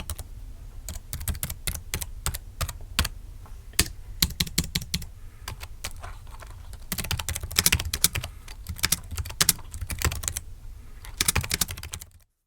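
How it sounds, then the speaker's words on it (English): Steady typing on a ThinkPad TrackPoint wireless keyboard, a dense patter of uneven key clicks close by, with brief pauses between bursts. "Listen to the inconsistency of the key sounds."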